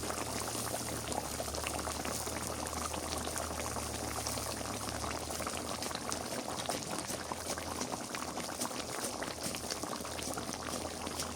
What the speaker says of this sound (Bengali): বলা ফুটে গেছে,